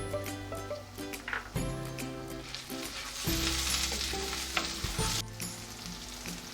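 Finely chopped medium tomato sizzles in a pan for achari chicken curry, a steady close frying hiss with intermittent stirring clunks and a low background hum, no voices.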